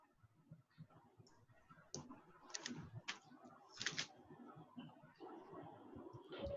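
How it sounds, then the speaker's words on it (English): A computer keyboard is typed on in a quiet room, with irregular clusters of close, crisp key clicks and a few louder taps, with no talking. "Now I am typing."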